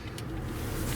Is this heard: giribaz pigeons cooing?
no